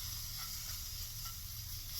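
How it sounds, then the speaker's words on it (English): Water sizzles in a hot pan of sautéing vegetables for risotto, giving a soft, steady, continuous hiss at low volume with no talking. "you hear the sizzle"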